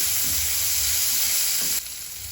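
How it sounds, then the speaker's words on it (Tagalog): Onions and tomatoes sauté in a pan, giving a steady, close hiss and crackle of frying with faint stirring scrapes, the sizzle dropping slightly in level near the end. "Gisahon ang bombay. Pagkatapos butangan sang kamatis. Gisahon lang, kag i-mix."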